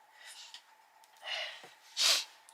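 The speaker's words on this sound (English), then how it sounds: "Oh, I've got a sniffle now." A single short sniffle, a quick nasal intake of breath close to the microphone, stands out briefly from quiet room background during a calm colouring session.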